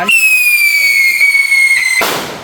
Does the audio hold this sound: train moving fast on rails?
no